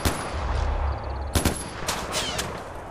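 Gunfire in the video game Far Cry 4, a rumbling burst early on followed by several sharp, loud shots spaced apart, heard alone without talk.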